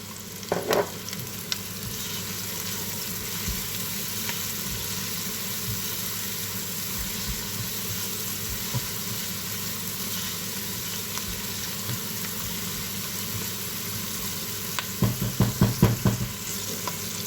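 Onions and peppers sautéing in a pan with salt added for an olive-oil green bean dish, a steady soft sizzle with occasional stirring scrapes and a short burst of utensil clatter near the end.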